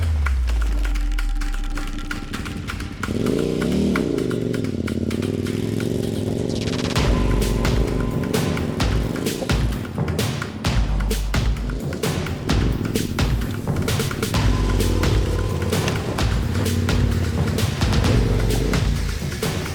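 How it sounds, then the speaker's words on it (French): A motorcycle without its luggage labours up a rough, steep track in Corsica, its engine loud and close with a continuous, uneven revving roar throughout. "La moto bouge dans tous les sens, mais ça passe."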